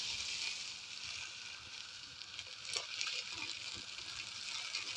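Vermicelli sautéing in a pan for Turkish chicken pilaf, a steady close sizzle and faint stirring scrapes with no talk.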